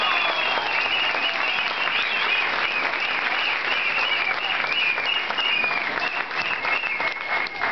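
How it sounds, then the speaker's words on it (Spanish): A rally crowd claps steadily and loudly for the whole stretch, a dense, continuous wash of hands with a faint murmur of voices underneath and no pauses. "¡Palmas, compañeros!"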